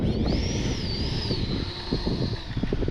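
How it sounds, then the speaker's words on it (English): A FlyFans L-39 Albatros RC jet flies in wind, its ducted-fan engine whining steadily in a high, slowly gliding pitch over constant low wind rumble and microphone buffeting, heard close from the pilot's position. "Going to take up the FlyFans L-39 64. See what kind of speed we can get."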